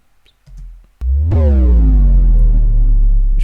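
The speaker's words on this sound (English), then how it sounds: "we also have a moment where you press a buzzer" A game show buzzer sound effect made for an escape room: a short low thump, then a loud, sustained, droning buzz that rings on steadily to the end, alone with no talk.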